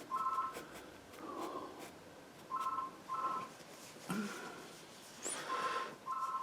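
A telephone rings in a room during an oil painting session, giving repeated short paired electronic trills in an uneven pattern, moderately loud and clear, with faint rustling between the rings.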